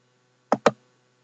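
Two quick plastic clicks of computer keyboard keys, close and isolated against a quiet background.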